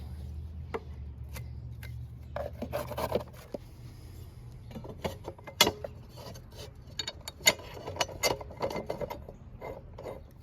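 A ratchet fastens the blade back onto a two-year-old 21-inch Toro Recycler self-propelled mower, giving short, irregular bursts of close mechanical clicking over a faint background hum.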